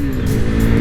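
A KTM RC 390 motorcycle engine roars loud and close on a missed shift, a dense sustained rev with no pause.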